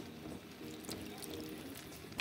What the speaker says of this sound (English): now I'm going to add the tomato sauce